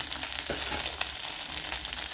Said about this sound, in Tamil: ஒரு பத்து சோம்பு பத்து ஜீரகம் ஒரு அன்னாச்சி பூவோட அந்த மொக்கு கொஞ்சம் பட்டை இது மட்டும் தான் எடுத்துருக்கேன் தாளிக்கிறதுக்கு